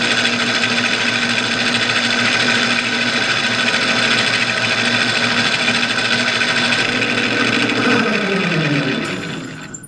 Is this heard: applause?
no